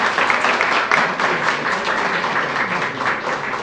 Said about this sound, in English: let's have a round of applause for the schools